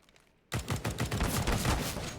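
Counter-Strike gunfire on Dust2 during a pro match, a sudden burst after a quiet start, then rapid overlapping automatic shots in a dense, loud, continuous rattle with no voices.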